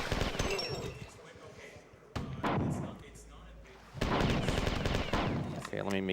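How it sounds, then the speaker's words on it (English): Gunfire in the first-person shooter Marathon Infinity on PC, with bursts of loud shots and impacts mixed with game sound effects, coming in several clusters over a continuous background. "You just shoot that switch through the window and then leave."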